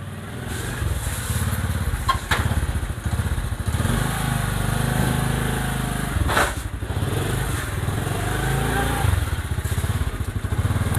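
A motorbike heads to the vegetable market, its engine holding a steady, close drone mixed with wind rumble and occasional thumps over the road, with no talk.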